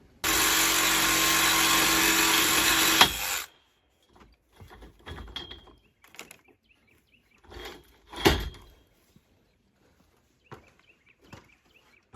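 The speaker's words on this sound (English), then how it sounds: "We'll cut the bottom bolt off" A power tool cuts a bolt off where it is set in concrete during a deck build, roaring loudly and steadily for about three seconds, then stopping abruptly, followed by scattered clanks and handling knocks.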